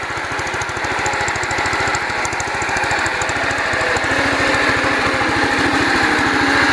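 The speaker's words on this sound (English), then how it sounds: "It starts right up with one or two cranks. A little more gear noise than the other Toro I have." A Toro Planet Jr garden tractor engine runs steadily with a rapid, even low thumping pulse and a layer of whining gear noise, close and loud throughout.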